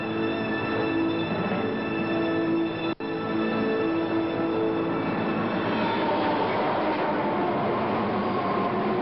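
A train rolls steadily past in an action-movie scene, a continuous loud rumble with ringing tonal hum and rattling wheels, briefly cut by a short dropout near the three-second mark.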